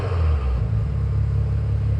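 A newly built Maserati Levante SUV engine fired for the first time on the assembly line, a close, loud low rumble holding steady with a slight revving swell over two seconds.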